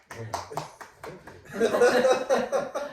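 Scattered hand claps, a few distinct claps at first, then a fuller burst of clapping mixed with laughter and talking from a small group in a casual podcast setting.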